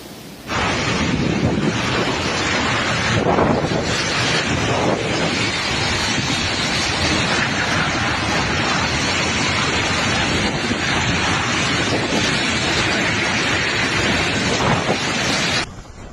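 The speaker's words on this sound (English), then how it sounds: "the typhoon's powerful winds and torrential rain battered the region" Typhoon Julian (Krathon) batters the Philippine coast: a loud, steady roar of 210 km/h wind with crashing surf, heavy rain and wind buffeting the microphone. The sound continues unbroken for about fifteen seconds with no voices.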